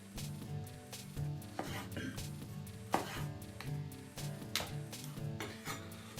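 A sharp knife cuts an heirloom tomato into pieces, giving a string of crisp, evenly spaced chops and knocks on the board over a steady musical background.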